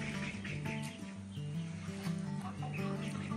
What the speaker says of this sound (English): Which chicken wants him?